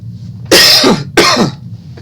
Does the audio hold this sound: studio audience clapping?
no